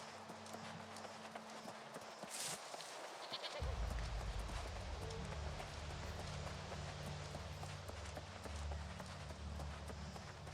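Sheep bleat amid a dense, noisy soundscape in the video game New World: Aeternum, with footsteps and a low droning background.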